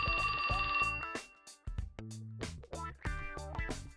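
A cell phone ringtone from the video game 428: Shibuya Scramble: a bright, repeating electronic trill in short bursts, loud and close, broken by brief pauses and alone with no talk.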